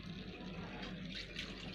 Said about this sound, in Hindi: अब इसमें हमें पानी ऐड करना है।